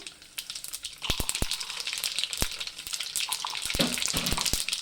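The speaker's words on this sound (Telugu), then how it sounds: "ఇప్పుడు అది బాగా వేడెక్కిన తర్వాత అందులోకి 3 టేబుల్ స్పూన్ల ఆవాలను వేసుకుంటున్నాను" Mustard seeds, three tablespoons, dropped into 250 grams of well-heated oil while making a red chilli pickle, giving a steady bright sizzle with sharp pops and crackles scattered throughout, close and fairly loud, with no talking.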